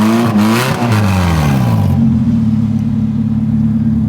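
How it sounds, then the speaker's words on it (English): A K-swapped Honda Civic EK revs hard for a burnout, its engine climbing and bouncing off the limiter, then settling into a loud sustained high-rpm drone, close and continuous with no voices. "we're gonna try to get him to do a burnout"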